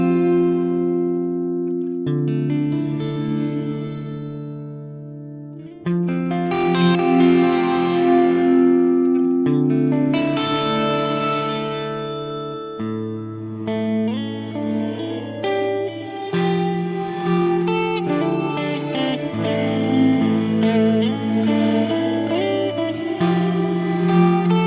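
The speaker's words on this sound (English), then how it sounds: "And here's a bit of reverse reverb." A guitar played through the reverse reverb mode of a BOSS RV-200 reverb pedal: sustained chords swell up, then shift to new chords every few seconds, with washy, echoing tails and no talking.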